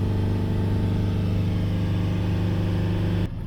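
A Mercedes diesel engine runs steadily at 3000 RPM, a close, loud, even drone with strong low harmonics that holds constant for about three seconds before dropping off abruptly near the end.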